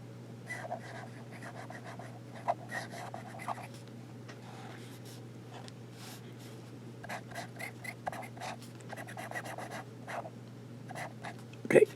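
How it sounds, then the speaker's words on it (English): A medium-nib Trio Phantas II fountain pen squeals and squeaks in short repeated bursts as it writes across paper, close up and fairly quiet over a low steady hum. "So you hear that squealing, but it's not scratchy at all."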